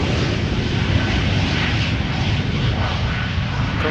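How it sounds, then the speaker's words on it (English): A Lufthansa Airbus A340 jet takes off from a runway at Amsterdam Schiphol Airport, a loud, sustained engine roar and rumble filling the whole moment at a fairly close distance. "it is an A340"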